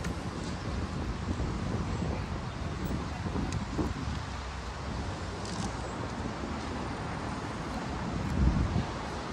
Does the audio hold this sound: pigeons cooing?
no